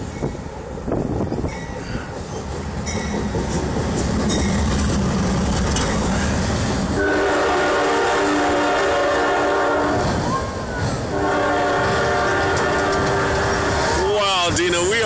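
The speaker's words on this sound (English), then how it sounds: "He's gonna honk because he thinks he sees us." A moving train passing very close beneath a high vantage point, with a loud steady rumble and clatter of cars, then long blasts of the horn near the end.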